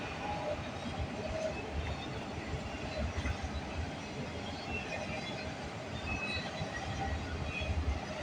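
Freight train CN X275 passes on the line, a steady, moderately loud broadband rumble of rolling wheels with faint rhythmic clatter lasting the whole span.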